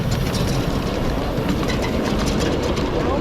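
A Pennsylvania Railroad small-scale live steam locomotive passes close by at a spring miniature railway meet, its wheels clicking over rail joints under a dense, steady rumble and hiss of steam, loud and continuous throughout.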